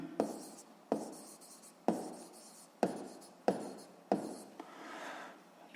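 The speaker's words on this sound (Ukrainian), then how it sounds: "Обчислюємо, пишемо обчислення." A pen writes physics calculations by hand on paper in six quiet, close strokes, each a sharp scratchy onset trailing off, spaced roughly a second apart.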